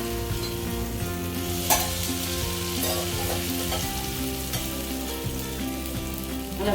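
Sweet paniyaram batter frying in sesame oil in a pan, a dense, continuous close sizzle and bubbling with faint occasional utensil taps, steady and loud.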